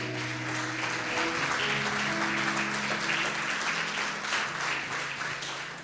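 A church congregation breaks into loud, sustained applause for the Lord, a thick continuous roar of many hands clapping together without pause, with a low musical hum underneath.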